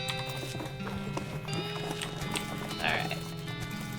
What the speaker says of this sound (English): Spectral whinnies as you approach